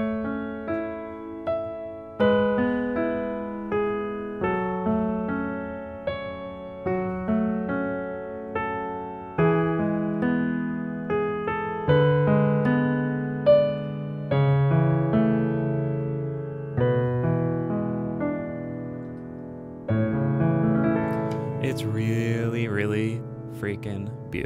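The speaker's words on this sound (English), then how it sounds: "Next, we have the love theme." Orchestral love theme for MJ from the Spider-Man: Far From Home film score, a slow, tender melody over sustained strings and harmonies, building gently over about twenty-five seconds with no talking.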